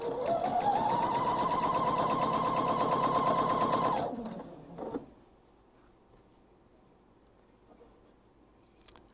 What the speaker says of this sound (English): back to the machine now and sew my 1/4 inch seam.